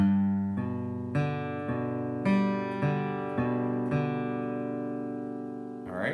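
An acoustic guitar picks a steady, ringing pattern of plucked notes with a regular rhythm, played solo and close: the intro of a song.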